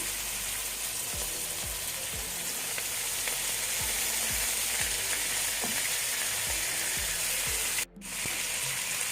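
Fenugreek leaves, coriander and mint fry in a pan, a constant close sizzle with repeated soft scrapes of stirring and one brief clatter near the end.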